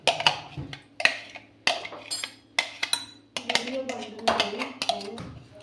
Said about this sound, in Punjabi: ਆਪਾਂ ਜੀ ਚਟਣੀ ਨੂੰ ਇੱਕ ਬੋਲ ਦੇ ਵਿੱਚ ਐਡ ਕਰ ਲਾਂਗੇ